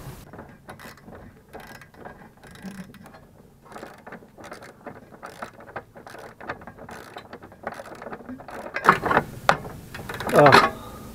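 A ratchet turns a bolt on the rear axle of a Rover 216 GTI, giving quick bursts of metallic clicking in an irregular rhythm. The clicks grow louder and more forceful toward the end, with faint garage noise around them.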